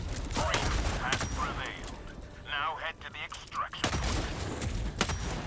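Enemy gunfire rattles through a firefight in Helldivers 2, with rapid bursts of shots popping repeatedly over several seconds while players talk over the shooting.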